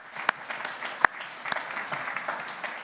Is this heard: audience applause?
yes